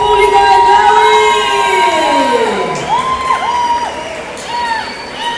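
A festival crowd at a Guelaguetza in Santa María Tlahuitoltepec cheers loudly, with high whoops and shouts rising and falling over a continuous wash of crowd noise.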